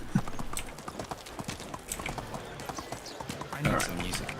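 Donkey hooves clip-clop steadily in the Medieval Dynasty video game, a quick even rhythm of close hoof strikes running throughout, with a slightly heavier cluster near the end.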